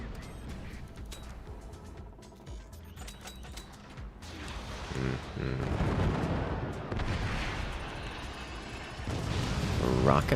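Rockets launching in the physics-based base-building strategy game Forts, heavy rumbling blasts and thuds overlapping continuously and growing louder toward the end, dense and close, with a voice talking over part of it.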